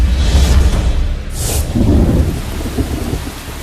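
Heavy typhoon rain pours down on Luzon with rumbling thunder rolling through, a steady dense wash of rainfall and a brief sharp crack partway through.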